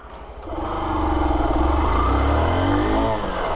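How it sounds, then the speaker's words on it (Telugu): A Hero Super Splendor 125cc motorcycle engine hums steadily at moderate speed while riding, rising slightly in pitch as it accelerates, close and continuous. "ఇంజన్ సౌండ్ కూడా ఓకే, కొంచెం రిఫైన్డ్ ఉంది"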